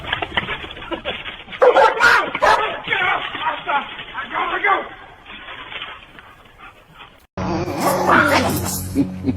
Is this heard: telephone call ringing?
no